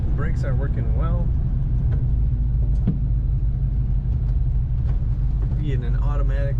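A 1939 Ford Deluxe Tudor sedan street rod with an automatic transmission cruises along, its engine giving a steady, heavy low rumble from inside the car while someone talks over it.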